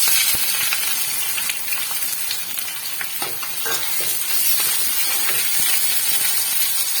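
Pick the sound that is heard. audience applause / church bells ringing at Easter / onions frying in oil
onions frying in oil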